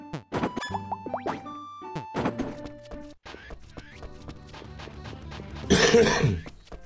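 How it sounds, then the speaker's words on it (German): A person coughs several times, sharp hacking bursts close to the microphone, heard over the chiming music and sound effects of the video game Rune Factory 4, with a louder rough burst near the end. "Das mit dem Husten, tut mir leid."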